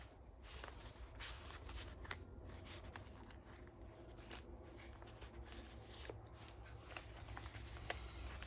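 Junk journal cards and paper pages, including scrapbook paper, grid paper and atlas pages, rustle and flip faintly and close by with soft scattered crinkles and taps.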